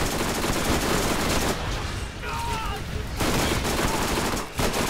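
Enemy gunfire in the video game Borderlands, a dense continuous barrage of rapid shots and impacts that briefly thins in the middle before resuming at full intensity.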